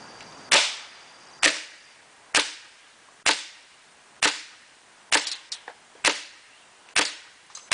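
A KWC Desert Eagle airsoft pistol is fired outdoors, giving sharp snapping shots about once a second, with a quick double near the middle and short echoing tails, heard alone.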